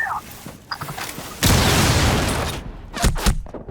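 Gunfire and blasts in a shooter video game: a burst of sharp pops, then a sustained loud roaring blast, followed by a few close cracking shots, with brief voices nearby.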